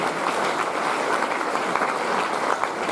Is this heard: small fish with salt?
no